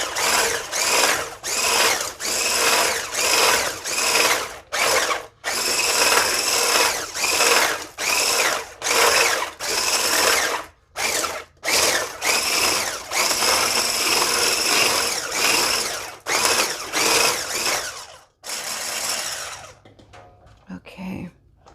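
An electric hand mixer whisks chickpea bread batter in a kitchen, buzzing loudly in repeated bursts a second or two long, separated by short pauses, before trailing off into quieter clatter.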